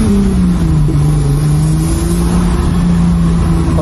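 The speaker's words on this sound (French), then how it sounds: "le moteur il tourne super bien" A homemade Lamborghini Countach replica idles close by, its engine a loud, steady drone whose pitch dips slightly then holds even, with no talking over it.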